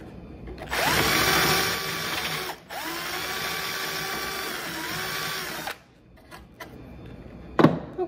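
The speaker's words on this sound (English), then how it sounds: "what I'm gonna do now is drill out both of these" A power drill whines steadily in two long bursts with a short pause between, drilling out broken wooden dowels, its pitch rising and falling slightly, followed by quieter clicks and clatter.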